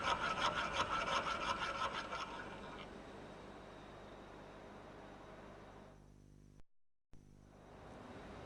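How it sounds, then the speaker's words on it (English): A round rat tail file is stroked across metal in quick rasping passes that fade after a few seconds, followed by quiet scraping and a brief dropout. "The fully round file, sometimes called a rat tail file, can make holes bigger."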